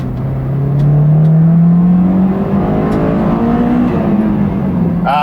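Honda VTEC engine revving high, a loud close rising whine that climbs steadily, drops briefly and carries on rising through the next gear, heard alone.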